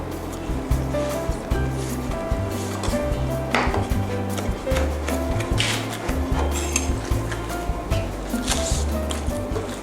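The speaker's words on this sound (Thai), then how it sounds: "โรยกระเทียมเจียวนะคะ บนก๋วยเตี๋ยว และต้นหอมผักชีนะคะ ก็จะต้องซอยเช่นเดียวกัน" A knife slicing spring onions and coriander on a board, giving quick repeated cutting taps at an uneven pace over steady background music.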